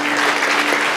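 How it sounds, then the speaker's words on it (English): Concert audience applause at a Thyagaraja music festival, a dense, steady wash of many hands clapping that fills the whole second at even loudness, with no clear voices standing out. "Let's give a big round of applause"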